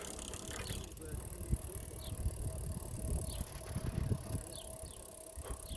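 A bicycle wheel spins steadily up close with a faint continuous whir, light ticking and occasional soft rattles, and low voices murmur in the background.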